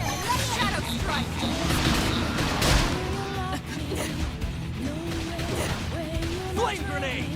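Flame grenade blasts in the video game Xenoblade Chronicles X Definitive Edition, loud bursts and crackling fire effects amid continuous combat noise and music, with character voices speaking over the action.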